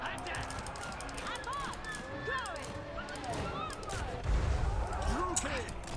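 Battle gunfire from a Warhammer video game rattles in steady volleys under mixed voices and shouts, with a heavier boom rising near the end.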